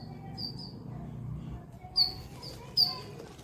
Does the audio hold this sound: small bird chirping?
yes